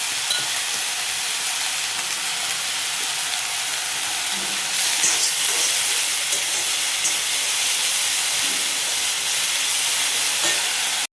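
Broccoli and onions frying in oil in a kadai, a steady close sizzle and hiss that continues evenly throughout with no talk.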